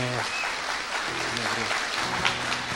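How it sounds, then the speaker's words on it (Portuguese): Congregation clapping during a church service, steady applause filling the room while voices talk and call out over it. "Louva a Deus com palmas, porque eles merecem"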